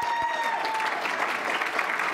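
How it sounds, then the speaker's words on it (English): Conference luncheon audience clapping in a steady, dense burst, a short full-room round of applause with no talk over it. "by applause, can I hear who is coming to the mayor's conference"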